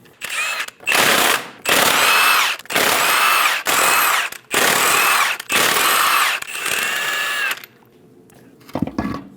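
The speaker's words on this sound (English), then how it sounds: "Using a 22mm socket, remove all 8 lug nuts." Power tool spinning off the eight lug nuts of a 2001-2006 Chevrolet Silverado 2500 HD front wheel with a 22mm socket: five loud, sustained whirring bursts with short gaps, then a quieter stretch and a brief clatter at the end.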